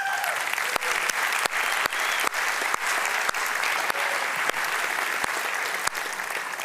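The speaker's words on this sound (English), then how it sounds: "Give them a warm applause." Audience applause for sponsors at the opening event of a makeathon, a dense, steady burst of many hands clapping that fills the room and holds for several seconds, with sharp individual claps standing out above the crowd.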